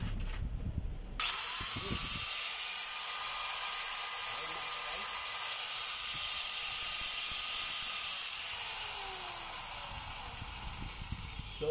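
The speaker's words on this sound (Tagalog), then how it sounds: "So umubra po yung switch ng DeWalt sa Stanley na grinder." A Stanley angle grinder fitted with a DeWalt switch spins up after a brief startup noise and runs at a steady high-pitched whine with hiss, close and loud, then begins to wind down near the end.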